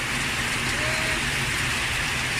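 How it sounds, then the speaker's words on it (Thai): Heavy rain falling, a dense, even hiss of wideband noise filling the short stretch without a break, close and steady. "วันนี้ฝนตกหนักมากเลยนะคะ"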